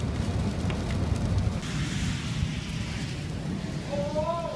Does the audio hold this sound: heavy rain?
yes